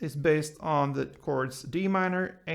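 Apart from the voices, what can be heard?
No everyday noise stands out behind the speech.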